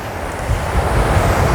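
Strong wind gusts roar across an outdoor microphone at dawn, a dense, steady low rumble with buffeting that fills the whole moment, with no voice over it.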